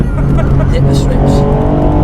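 A 290bhp tuned Ford Fiesta ST MK8 corners flat out on a race track, its loud, steady engine drone filling the cabin with a voice talking over it.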